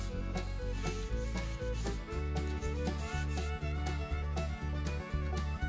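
A cloth rubs a generous first coat of finish onto a turned cherry wood tray, heard as steady, rhythmic rubbing strokes close to the microphone with a faint tonal background and no talk.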